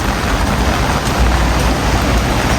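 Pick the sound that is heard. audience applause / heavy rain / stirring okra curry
heavy rain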